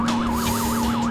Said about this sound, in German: Ich habe Sirenen gehört.